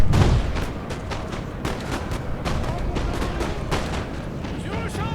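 Artillery guns in the Napoleonic-era strategy game Napoleon: Total War, set on the Waterloo battlefield, fire a string of loud booms and cracks over a dense rumbling battle din, with no pause across the whole stretch.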